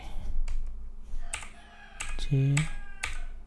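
Keystrokes on a computer keyboard while a VoIP phone server is set up, a few separated taps mixed with ongoing speech in a room.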